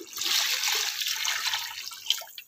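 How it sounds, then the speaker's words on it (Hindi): Water being poured into a cooking pot of vegetables, green chillies and coriander for green vegetable pulao, a steady close splashing pour that tapers off over a couple of seconds. "अब इसमें ये तीन कटोरियां पानी की डाल देंगे,"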